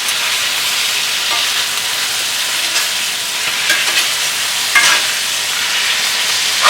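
Pork medallions crackle and sizzle loudly in a hot pan as they are turned, a continuous close frying hiss with a few brief scrapes and clicks of flipping.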